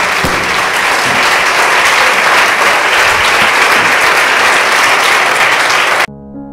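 Congregation at an Urdu sermon clapping loudly for God, a thick, sustained burst of applause from many hands, close and steady, cutting off abruptly near the end into a soft musical tone.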